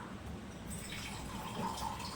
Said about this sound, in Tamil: மீனுக்கு தேவையான அளவுக்கு நம்ம தண்ணி சேர்த்துக்கலாம்